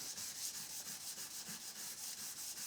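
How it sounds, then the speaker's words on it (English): Rhythmic back-and-forth rasping of 180-grit sandpaper on steel, quick even strokes repeating steadily, close and fairly quiet. "I'm sanding it to 180 grit"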